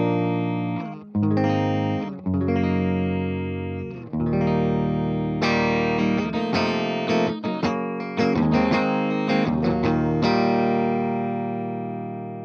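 Electric guitar played through a Morgan AC20 amplifier with the master turned up, giving a clean, nearly unbroken tone. Strummed chords ring out sustained and full, loud and alone.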